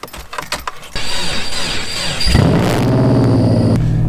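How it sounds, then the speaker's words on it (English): A Subaru Impreza, left standing unused for a while, cranks over on a cold snowy day, starts weakly with starter whine, then catches into a loud, rough, steady idle up close, preceded by light clicking and rustling. "Nothing like a good Subaru cold start in the snow"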